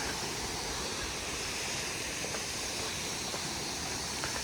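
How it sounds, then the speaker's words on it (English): Waterfall on the Pinhoti Trail, a steady, faint broadband rush of falling water with no breaks. "Waterfall."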